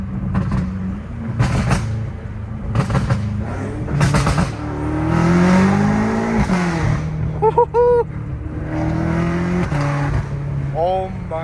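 Dodge Challenger Hellcat Redeye with a titanium catback exhaust revving hard, its loud engine roar swelling and falling in bursts close by, with excited talk and whoops running over it.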